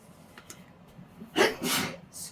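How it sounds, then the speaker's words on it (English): One person sneezes once, a sudden close burst with a short drawn-out follow-through, after a moment of faint background shuffling and breath. "My first sneeze of the day"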